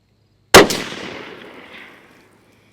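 A single sharp rifle shot fired at a 300-yard target, a loud cracking report followed by a second echo and a long rolling decay that fades over about a second and a half.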